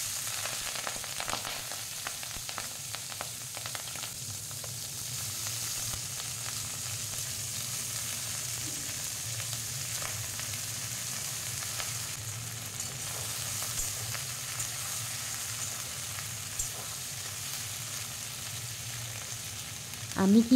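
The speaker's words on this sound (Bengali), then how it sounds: "এবার আমি ওই তেলেতেই কেটে রাখা পেঁয়াজকলিগুলি ভাজতে দিয়ে দেব।" Chopped spring onions frying in oil in a kadai over a low flame, making a soft, steady crackle and sizzle with occasional stirring scrapes, faint and close, with a brief louder knock at the very end.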